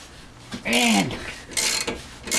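A ratchet works on coilover mounting bolts, turning in a couple of loud, close grinding, clicking bursts with a metallic squeal as the bolts break loose, with no voices.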